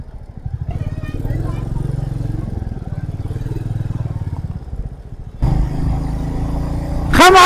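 Road traffic surrounds a Royal Enfield Meteor 350 motorcycle during a ride to Panhala, a loud steady engine drone with nearby vehicles. The sound gets louder and rougher near the end as the bike revs up.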